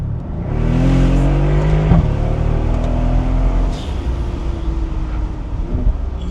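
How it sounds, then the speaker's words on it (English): A Mercedes SL63 AMG accelerates hard from 25 mph in 5th gear, its engine note climbing loudly and steadily under wide-open throttle with a rising drone close to the car, easing off toward the end. "cruising here in 5th gear, 25 miles an hour, foot down."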